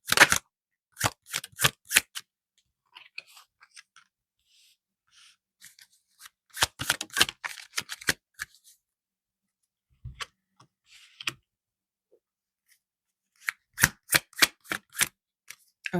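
Tarot cards shuffled for a pick-a-card reading: close, crisp bursts of riffling and flicking card sounds in short clusters, separated by near-silent pauses.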